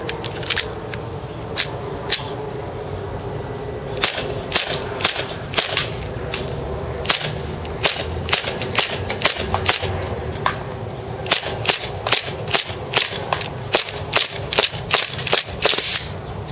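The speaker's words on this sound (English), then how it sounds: "I'm going to fire 2 mags out for you." An ACM PPK airsoft pistol fires BBs outdoors on a cold day, giving sharp, snappy cracks that come singly and in quick irregular runs across two magazines, loud and close with no talking.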